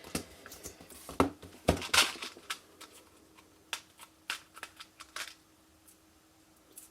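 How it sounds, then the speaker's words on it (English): Tape being torn and pressed onto a paper book for a Tic Tac craft, giving scattered crinkly rips and soft taps at close range, quiet with no talking. "I now need to put some tape along this part because this is going to stick inside the book."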